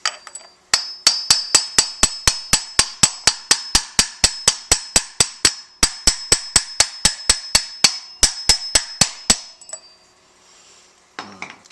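Rapid, evenly spaced metallic taps drive a cam drive wheel onto a Ferrari 348 engine, about three sharp ringing hits a second for roughly nine seconds, then a pause and a faint clunk.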